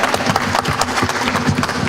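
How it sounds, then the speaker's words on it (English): Convention audience applauding horror film panel guests at CT HorrorFest 2017: a continuous wash of crowd clapping, fairly loud and even throughout, without distinct voices. "let's give them a round of applause for coming out"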